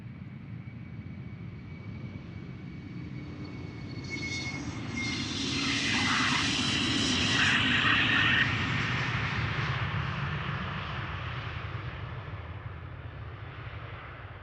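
A Boeing 787 Dreamliner airliner takes off at Amsterdam Schiphol, its jet roar swelling from a distant rumble to a loud, broad peak as it passes close, then slowly fading away.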